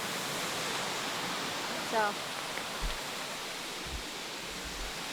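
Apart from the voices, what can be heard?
waterfall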